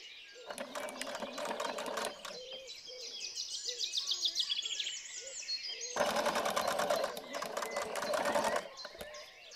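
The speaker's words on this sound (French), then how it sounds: "il suffit de coudre au point droit." A sewing machine runs a straight stitch through fabric for a chocolate-basket craft, a fast even rattling whir in two long bursts separated by a quieter pause, close and loud.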